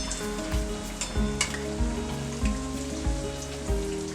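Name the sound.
Malvani bhaji vadas frying in oil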